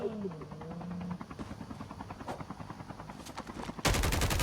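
A helicopter's rotor thumps in a steady rapid pulse in Call of Duty Mobile, mixed with bursts of gunfire and game effects, ending in a loud harsh blast.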